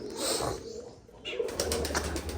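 Soft cooing of pigeons close by, with a brief flutter of wings and a faint rustle in the background.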